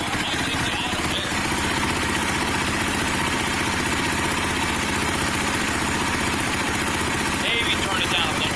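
A rebuilt motorcycle engine idles with the choke off, a steady, fast, close putter with no pauses throughout, joined briefly by a few scattered noises.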